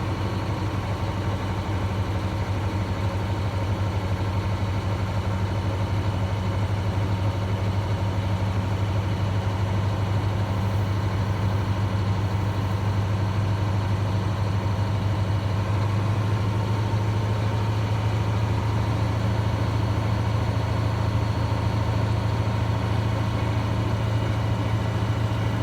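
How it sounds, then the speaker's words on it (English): A truck engine holds at a steady raised idle with a strong low drone and even, unchanging hum, running alone and close throughout while air pressure builds. "I'm going to raise up the RPMs between 10 to 15 to build up the pressure a little bit faster."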